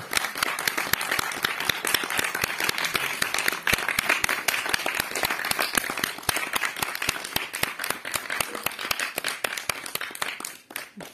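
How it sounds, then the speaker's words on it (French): An audience claps after a film screening, a dense and steady burst of many hands close by that thins slightly toward the end. "Il faut applaudir."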